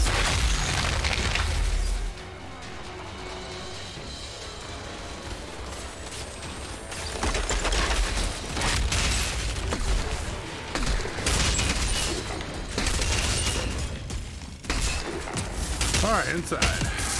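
Enemy gunfire in the sci-fi shooter game Outriders, dense bursts and booming impacts rolling across the fight, loud and continuous, with a player talking over the shooting.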